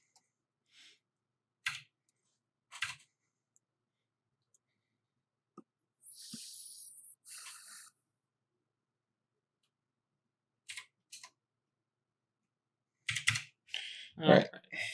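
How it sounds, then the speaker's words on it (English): Computer keyboard keys clack in sparse, scattered bursts with long silent gaps, short clusters of sharp clicks and brief rapid typing runs, close and fairly soft. "Why do you abuse your keyboard like this?"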